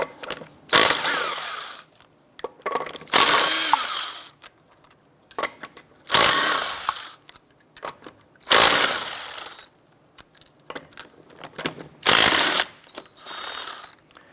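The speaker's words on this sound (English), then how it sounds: "we're going to go ahead and remove our lug nuts." A ratchet on a 19mm socket loosens lug nuts on a 2006–2013 Chevrolet Impala, giving about six loud, close bursts of rapid clicking and whirring, each lasting about a second, with quiet gaps between them.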